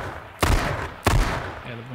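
Two sharp, loud gunshot blasts from a shooter video game ring out about half a second apart, each trailing into a short decay, with a low tone rising near the end.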